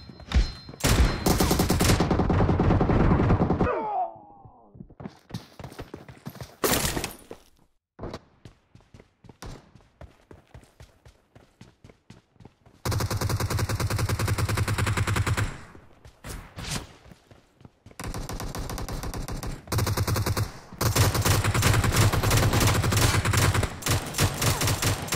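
Gunfire rattles through a PUBG Mobile match: dense, loud bursts of automatic shots with pauses of scattered single shots and quieter stretches between firefights.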